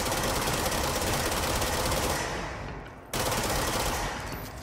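Sustained automatic gunfire in the video game Control rattles loud and dense, a continuous rapid burst that briefly cuts out before resuming at full intensity.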